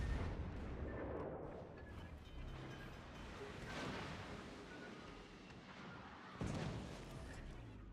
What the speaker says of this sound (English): Torpedoes to starboard. Fire.